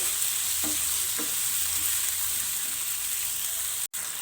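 Chopped tomato and onion fry in a pan with a continuous soft sizzle, while a few light scrapes from stirring come through early on.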